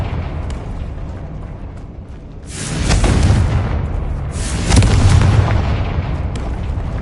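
Confringo blasting spell explosions in Hogwarts Legacy, two loud rumbling booms a couple of seconds apart, each swelling suddenly and fading into a lingering low roar.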